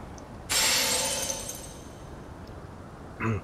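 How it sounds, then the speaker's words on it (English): Thrown item shattering on landing in the Elden Ring video game: one loud, bright glassy crash that rings out and fades over about two seconds, followed by a short faint game sound near the end. "Now, if it shatters like that, it means it's lethal."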